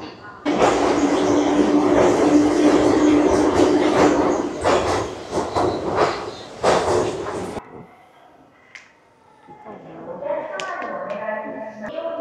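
A train pulls into a station near Kyoto with a loud, broad rumble and rattling clicks of wheels over rail joints, then fades, leaving quieter station ambience and people talking nearby.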